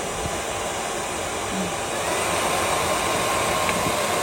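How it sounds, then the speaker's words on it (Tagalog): A handheld vacuum cleaner, fitted with a separately bought nozzle, runs steadily at close range with a broad, even whooshing roar that holds constant throughout, with no talking. "kung takot naman yung mga fur babies nyo sa tunog ng vacuum"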